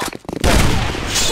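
Grenade explosion in the online shooter Sudden Attack, a sudden loud blast that cuts off brief speech and then rumbles on at full strength to the end.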